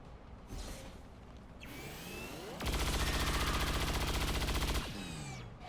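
Sustained automatic gunfire in the video game XCOM 2, a dense rapid burst of shots lasting about two seconds mid-clip, framed by whooshing and sweeping game effects before and after.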